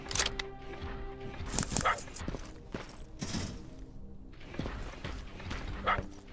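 A dog in the Terminator Resistance game barks in several sharp, moderately loud bursts, scattered irregularly across the clip over ambient game noise.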